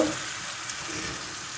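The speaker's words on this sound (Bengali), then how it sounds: "এখন আমি ভাজা শুরু করব।" Oil sizzling steadily in a frying pan over a medium flame, a short, even hiss with one faint tap.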